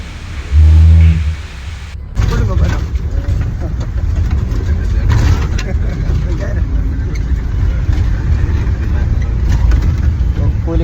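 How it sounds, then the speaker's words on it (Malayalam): Inside a bumpy, heavily jolting bus travelling toward Edappally, a low rumbling engine and road drone run steadily throughout, with a loud thump early on and clattering rattles over the noise. "ബസ് ഭയങ്കര ഷോക്കാണ്."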